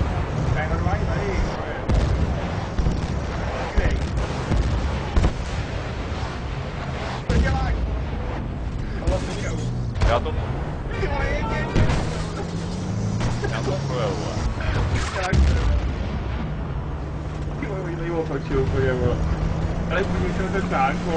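Gunfire and explosions from the video game Battlefield Bad Company 2 crackle and thud steadily throughout, with engine rumble and voices talking over the combat.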